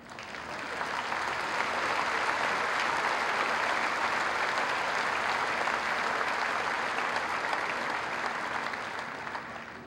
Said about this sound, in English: please join me in honoring him with one more round of applause